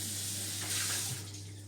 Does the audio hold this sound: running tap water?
yes